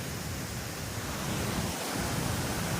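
A steady, broadband roar of rushing water fills the whole stretch, constant and loud with no breaks, from a waterfall beside Manor Dam heard from nearby.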